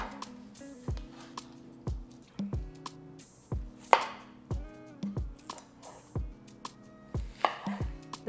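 A knife roughly chops vegetables for a blender on a cutting board, a steady series of close, crisp thuds at a relaxed, even rhythm, heard alone without talking.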